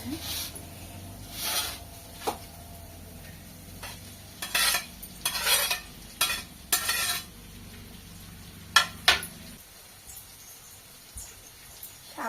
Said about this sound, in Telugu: మంచిగా ఫ్రై అయిపోతుంది తర్వాత ఈ బెండకాయ ముక్కలను అయితే వేసేసుకుంటాను